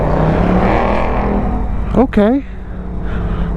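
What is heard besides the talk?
2021 Harley-Davidson Road Glide Special motorcycle riding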